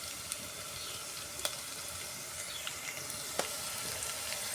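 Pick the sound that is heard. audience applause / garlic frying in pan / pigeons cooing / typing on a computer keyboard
garlic frying in pan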